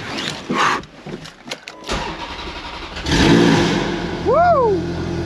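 A Ferrari engine starts and revs close by in a parking space. Scattered rustling and knocks come first, then a loud roar catches and swells, with two sharp rising-and-falling revs near the end.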